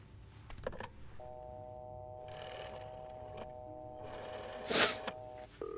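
A telephone is dialed in the video game This Bed We Made: a few clicks, then a sustained steady tone, then a sharp burst and more clicks, all fairly quiet with no talk.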